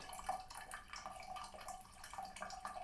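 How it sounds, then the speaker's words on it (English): Tap water runs into a tub and over a vinyl record, a soft steady trickle with light splashing, faint and close, with no voices. "I put it in the tub. And turn the water on."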